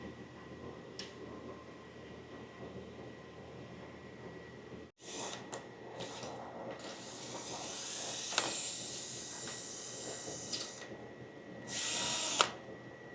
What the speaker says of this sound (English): So we'll just drill the new one,